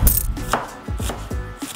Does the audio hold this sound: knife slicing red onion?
yes